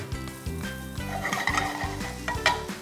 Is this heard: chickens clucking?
no